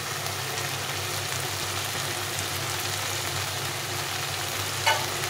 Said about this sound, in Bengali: রান্নাটা মশলাটা কষাবো কিছুক্ষণ।